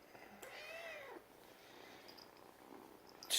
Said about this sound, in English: As you can hear, there's there's a little kitty here